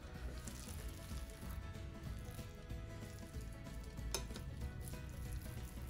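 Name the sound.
black bean burger patty cooking in an air fryer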